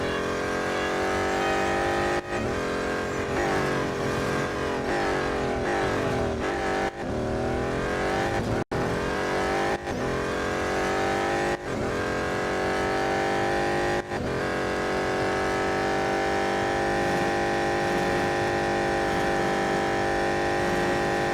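A racing car engine in the video game Real Racing 3 drones loudly and steadily, rising and falling in pitch through gear shifts and braking, with brief drops at each change.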